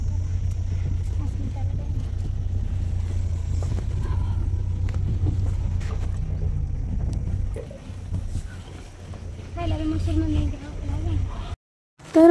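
Car driving on a road, a steady low engine and road rumble under wind noise inside the vehicle, easing off briefly before cutting out, with people talking over it.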